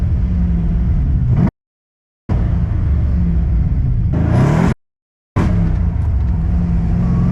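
A 408 cubic-inch stroker LS V8 swapped into a Nissan 350Z runs loud and close with a steady rumbling idle and a brief rev near the middle, broken by two short silent gaps.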